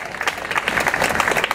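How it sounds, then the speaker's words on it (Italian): An audience applauds at an award ceremony, producing steady, dense clapping from a nearby crowd that is loud and continuous throughout. "Ancora dura l'applauso, più grande, più grande, più grande"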